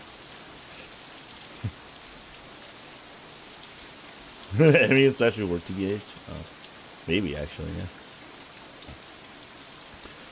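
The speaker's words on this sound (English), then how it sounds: "Raindrops hitting the umbrella make a distinctive sound, playing the staccato melody of rainfall for nobody in particular" Rain patters steadily on an umbrella in the visual novel Katawa Shoujo, a soft continuous hiss throughout, with people talking briefly over it midway.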